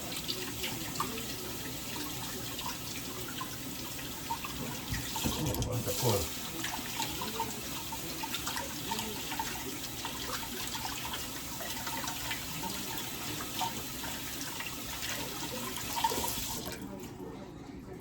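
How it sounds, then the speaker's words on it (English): A kitchen tap runs steadily as flour is washed off hands in a sink, with continuous splashing close by and a brief spoken remark over it. "And then I'm gonna wash this flour off of my hand."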